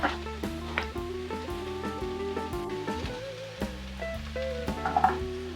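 Zucchini frying in butter and olive oil in a pan, a soft steady sizzle with light crackles under a sustained musical tone, a few louder pops near the end.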